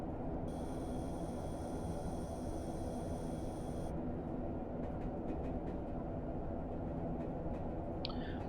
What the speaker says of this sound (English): It's also nice to have a drive around in the First Gen DMU